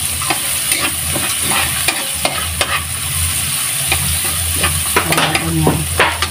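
Onion and garlic sizzling in oil in a pan while being stirred for pancit bato, steady frying hiss with repeated scraping and clinking strokes of a utensil, close and fairly loud, no talking.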